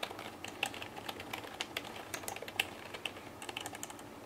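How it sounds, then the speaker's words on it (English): Quick, light clicking of keys on a low-profile Gigabyte KM5200 computer keyboard, a steady irregular patter of soft taps heard up close and fairly quiet. "This is what it sounds like when you're typing."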